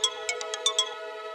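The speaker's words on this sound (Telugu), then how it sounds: "సార్, సీఎం గారు ఫోన్ చేస్తున్నారు." A phone ringtone for an incoming call plays a short run of bright repeated electronic tones, clear and close with no voices.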